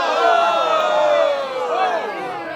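A dense sports crowd cheers and shouts in a steady, loud swell, with rising whoops near the end; a sound effects library recording of sports crowd reactions.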